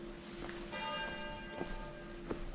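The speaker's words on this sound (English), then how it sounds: "And the church bells in the background definitely add to the effect as well." Church bells ring in Tallinn's old town, a sustained tolling tone heard at a distance with a few soft repeated strikes, faint against quiet street ambience.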